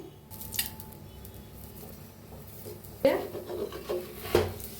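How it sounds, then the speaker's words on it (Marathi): Ghee is spread on both sides of a roasting cauliflower paratha, giving soft rubbing and scraping strokes with a few sharper scrapes and light clinks of a utensil. "दोन्ही साईडला तूप लावायचं."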